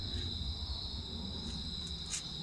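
Crickets chirp in a steady high-pitched trill over a low background hum, fairly quiet and continuous.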